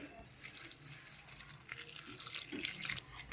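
Flattened rice (poha) washed in water, a quiet run of water splashing and sloshing with small drips, steady and close throughout.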